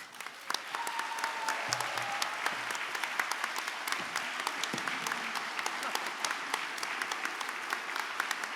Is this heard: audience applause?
yes